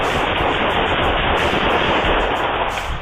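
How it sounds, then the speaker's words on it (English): Police officers fire more than ten shots within seconds, a dense, loud, harsh burst of rapid gunfire that saturates the whole span without pause, heard at close range. "The 2 officers fired more than 10 shots within a few seconds"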